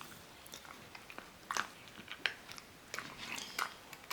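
A dog crunches and chews a Greenies dental treat close up, irregular crisp bites and gnawing clicks coming in bursts over a quiet background, with no talking.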